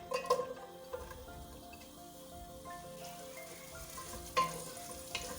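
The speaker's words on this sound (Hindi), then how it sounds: "3 टेबलस्पून देगची में ऑयल डालें। प्याज डालें।" Onions frying in about three tablespoons of oil in a pot, a faint, steady sizzle with occasional small clinks and stirring sounds, no talking.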